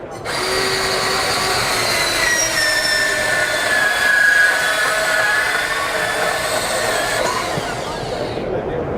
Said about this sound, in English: I'm going to go ahead and cut some 2-inch conduit for you today.